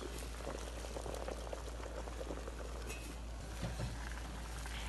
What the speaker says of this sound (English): Once the water in your pots have come to a boil